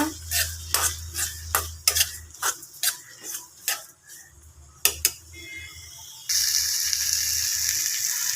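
A spoon or spatula scrapes and taps in a pan while vegetables are sautéed with salt and tamarind, sharp rhythmic clinks at close range, followed by a steadier sizzling hiss toward the end.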